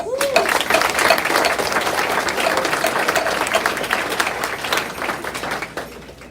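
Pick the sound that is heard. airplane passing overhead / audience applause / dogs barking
audience applause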